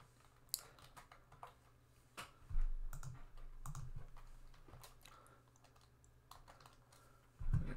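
Keys clacking on a computer keyboard while a spreadsheet formula is typed into Google Sheets, with irregular quick taps, a couple of heavier key presses near the middle and end, close and moderately quiet with no talking.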